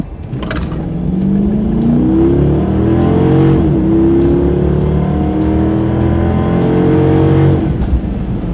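2014 Chrysler 300c AWD sedan accelerating hard, a loud steady engine roar climbing in pitch through a gear change near the middle, heard close from inside or near the car with no talk.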